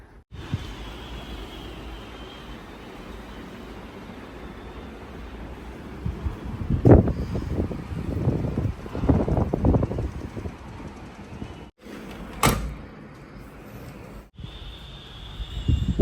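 Steady wind rushing past the microphone on a balcony ahead of rain, with rumbling gusts swelling in the middle and a few sharp buffeting bursts near the end.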